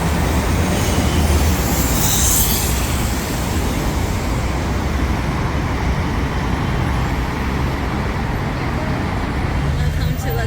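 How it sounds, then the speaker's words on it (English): A crowded Lima metro train in Peru rumbles loudly and steadily throughout, with a dense roar of wheels and motion and a brief high hiss near the start. "What do you think about riding the metro in Peru?"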